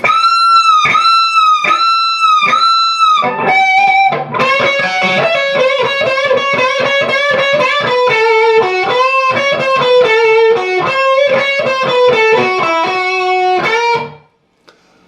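A heavily distorted electric guitar plays the opening of the solo from a song, repeated sustained bent notes moving into faster phrases before cutting off.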